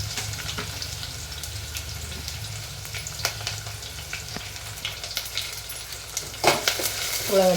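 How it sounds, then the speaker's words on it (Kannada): Onions fry in hot oil with a continuous sizzle and crackle, close to the pan. Scattered stirring scrapes and a few louder clatters come near the end, with no speech. "ಚೆನ್ನಾಗಿ ಫ್ರೈ ಆಗಲಿ ಎಣ್ಣೆ ಒಳಗೆ"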